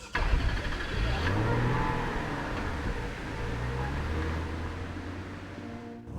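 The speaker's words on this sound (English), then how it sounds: "Now it pulls off smoothly enough, but once it's underway it feels a little bit disappointing." Car with a 2.5 litre KV6 engine pulling away and accelerating, a smooth mid-pitched engine note rising through the revs and then settling, heard from inside the car.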